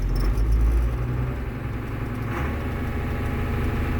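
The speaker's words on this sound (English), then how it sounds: "nice running tractor" A tractor engine running steadily at idle, a low continuous rumble close by with no talking.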